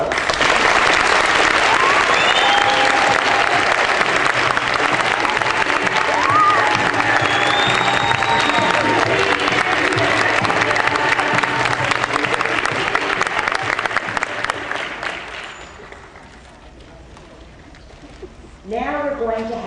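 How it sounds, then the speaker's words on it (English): Sustained crowd applause with some cheering honors the models at an American Girl fashion show, loud and continuous for about fifteen seconds before fading, then a voice starts talking. "can we have a real round of applause for all of our models?"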